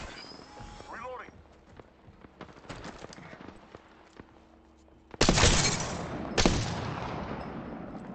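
Gunfire in a competitive shooter game match: a sudden loud burst of shots and impacts cuts through quieter game ambience and scattered clicks, with a second burst following about a second later.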